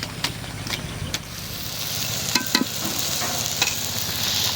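Cooked mixed greens are mashed and stirred in a pot with a large wooden dal masher, giving steady scraping, squelching strokes with a few sharper knocks against the pot, moderately close, with no talk.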